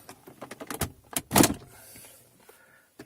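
Trim panel being pulled from a Mazda 6 MPS (MazdaSpeed 6) center console, giving a series of close plastic clicks and creaks that end in one louder snap, followed by quieter handling.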